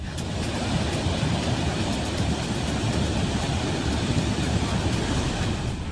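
A steady, dense roar of rushing water fills the whole stretch without letup, loud and broad, from the Betwa and Yamuna rivers in flood after heavy rain in Uttar Pradesh.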